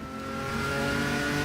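Puma GTB with an inline six-cylinder Chevrolet engine in the Automobilista racing game, revving in a steady, loud drone that swells slightly and holds, with no talk over it.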